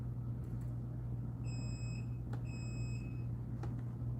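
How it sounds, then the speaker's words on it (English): A heat press used for DTF transfers gives two short, clear electronic beeps about a second apart over a steady low hum in a quiet workspace. "So when it beeps like that"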